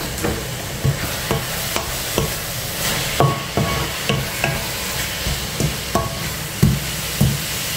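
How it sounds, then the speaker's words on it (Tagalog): Food sautéing in a hot pan, with a steady sizzle and regular scraping, stirring strokes of a spatula roughly every half second, close and clear with no talking. "Igisa-gisa lang siya."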